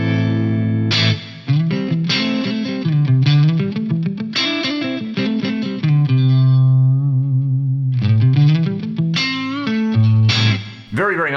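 Clean electric guitar through a Strat neck pickup into a Fender Deluxe-style amp module, with light Lexicon PCM81 plate reverb: played melodic phrases and sustained chords, loud and close, a brief pause mid-phrase letting the reverb tail ring out.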